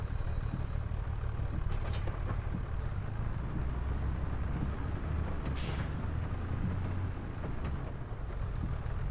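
A tractor engine runs at a steady low rumble in a logging video game, droning continuously with faint clanks and one brief hiss partway through.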